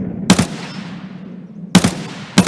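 Gunfire in the video game Escape From Tarkov, with three loud, sharp shots spaced irregularly over a couple of seconds, each followed by a short echoing tail over low background rumble.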